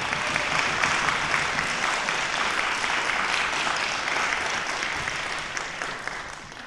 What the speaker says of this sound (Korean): 이미 무대에 나와 앉아 있는 서귀포 관악단 단원들을 위해 뜨거운 박수를 보내주시기